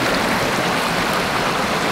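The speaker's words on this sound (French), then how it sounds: "on va encore se traverser un petit ruisseau, là" Mountain stream on the GR20 trail in Corsica, a steady close rush of flowing water with an even, continuous hiss and no voices.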